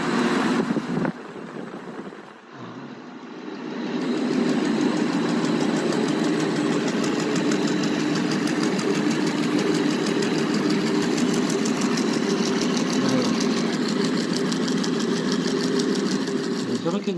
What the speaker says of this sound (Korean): 저렇게 이제 벨트가 파닥거리는 소리가 날 정도로 저렇게 돼서는 안 돼요